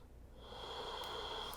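A deep, slow breath during a morning yoga flow, rising steadily and heard close and soft, with a faint airy wheeze to it and no talking.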